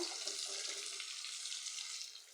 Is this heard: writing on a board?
no